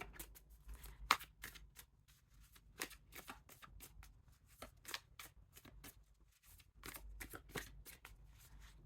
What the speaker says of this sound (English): I'm going to shuffle the tarot and get some cards